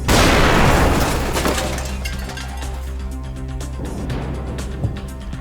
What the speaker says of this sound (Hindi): भीषण विस्फोट में यूक्रेनी ठिकाना पूरी तरह बर्बाद हो गया।